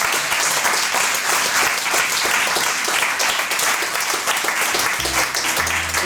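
Loud, dense applause from a theatre audience at a live comedy show, a continuous wash of many hands clapping, with a low hum entering near the end.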